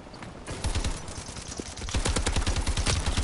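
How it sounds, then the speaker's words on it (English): Rapid light machine gun fire in Call of Duty: Advanced Warfare: dense, rhythmic bursts of automatic shots that start after a brief lull and keep hammering steadily, loud and close, with no talk over them. "really liking these light machine guns"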